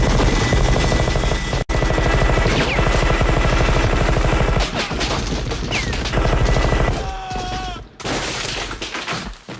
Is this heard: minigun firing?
yes